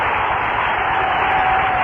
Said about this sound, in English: They are still standing. They are still applauding.